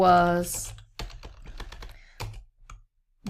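Typing on a computer keyboard: a run of separate, crisp key taps at an irregular pace, close and moderately loud, just after a short burst of speech.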